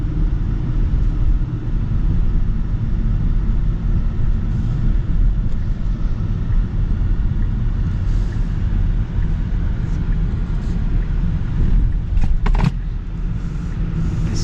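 Steady low road rumble and engine drone from a 2025 Genesis G70 2.5T cruising on the road, heard from inside the cabin, continuous and even throughout with a few faint clicks near the end.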